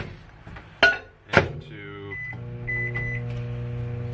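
Microwave oven running to heat Bait Plastics Flex X plastisol for soft plastic lures, a couple of sharp clunks from the door or buttons followed by a steady motor hum and a faint intermittent beeping tone.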